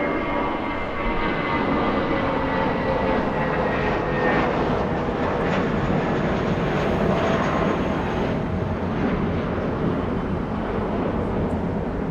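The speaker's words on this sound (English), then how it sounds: "That's an A320." A JetBlue Airbus A320 jet roars past at Los Angeles International Airport, a dense, steady engine rumble of constant loudness with faint whistling tones above it and no talking.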